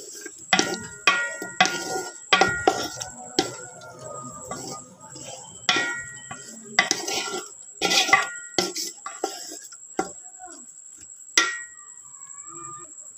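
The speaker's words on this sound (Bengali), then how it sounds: "তো আমি এখন এগুলো নাড়াচাড়া করে ভেজে নেব।" A spatula scrapes and clinks against a large metal pot while potatoes and meat are stirred and fried, giving a series of irregular metallic knocks and scrapes over a faint background sizzle.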